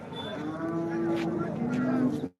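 A cow lows at a busy livestock market, one long drawn-out moo that briefly dips and then swells again, loud and close over a constant murmur of crowd noise in the background.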